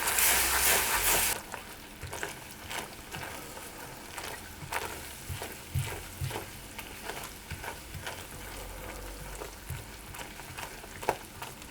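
Butter and cream stirred in a hot pan for a spiced fig loaf caramel sauce, opening with a short burst of loud sizzle, then steady soft bubbling with repeated scraping strokes of the spoon, close and with no voices.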